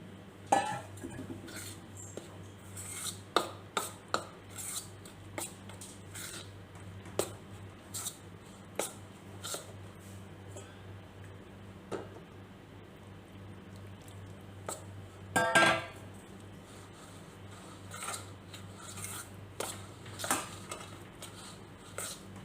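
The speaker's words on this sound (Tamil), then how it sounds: "தண்ணியை கொஞ்சம் கொஞ்சமாக சேர்த்து கலந்துக்கலாம்." Rice flour dough being mixed by hand with water in a bowl for kara kozhukattai, soft squishing and scraping with scattered clinks and knocks against the bowl, faint and intermittent.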